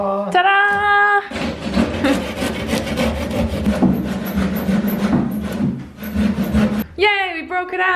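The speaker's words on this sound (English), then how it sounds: "So we're thinking we need to use the handsaw." Handsaw cutting through a board in a wooden wall during a tiny house renovation, with steady back-and-forth rasping strokes for several seconds, close and fairly loud, framed by brief voices at the start and end.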